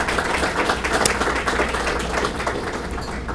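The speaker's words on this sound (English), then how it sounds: "That deserves a round of applause in itself." A round of applause at a foundation's annual dinner, many hands clapping in a continuous, even wash from start to finish, with no talking over it.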